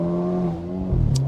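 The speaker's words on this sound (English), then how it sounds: "let's turn off the stability to see how this car performs without a stability control in the launch" A 2023 Mercedes-AMG SL43 with its four-cylinder engine and stability control switched off launches hard, its engine note rising in a steady harmonic whine that climbs in pitch over a brief moment.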